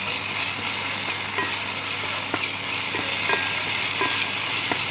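Tomato posto fries in a pan after a splash of mustard oil. It gives a constant, close, hissing sizzle with a few faint clicks from stirring, and nobody speaks.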